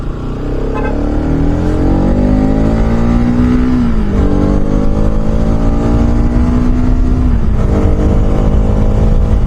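A motorcycle climbs a hairpin hill road, its engine droning loudly and steadily up close with rising and falling pitch as it shifts and revs through the bends, with no voices.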